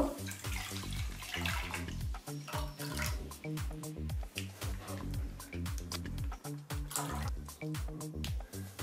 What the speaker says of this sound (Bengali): দুধটা দিয়ে দেব।